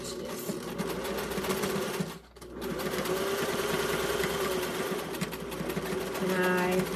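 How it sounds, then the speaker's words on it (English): A serger sewing machine stitches a fabric mask, running in a steady close whir with one brief pause near the start, then resuming continuously at high speed. "So now I'm going to go to my machine, and I'm going to stitch this."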